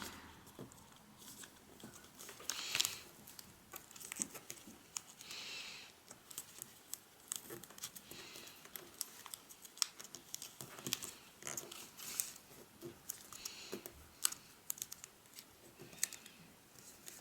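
Paper being creased and folded into a fox origami, with soft crinkling and sharp rustles in irregular bursts, close and fairly quiet with no voices.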